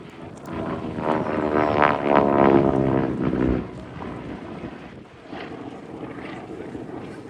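A Harvard propeller trainer aircraft flies past at an outdoor air show, its engine drone swelling loud and buzzy, then fading to a lower, distant hum with some wind noise.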